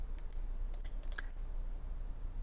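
Computer mouse clicks while assembling parts in Inventor CAD software, several quiet, sharp clicks in a loose irregular cluster over a low room hum, close and soft.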